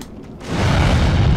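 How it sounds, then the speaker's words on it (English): Explosion in the video game Demon's Souls: a sudden heavy boom that swells into a loud, sustained rumbling roar and holds to the end, with no voices over it. "I was hoping the explosion would kill him"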